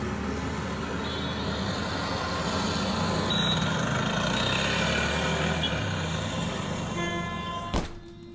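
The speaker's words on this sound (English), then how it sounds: "All right, so we have our traffic noise." Recorded road traffic plays from a speaker during a cheap soundproof curtain test, giving a continuous low rumble of passing trucks and cars that ends with a sharp thunk near the finish.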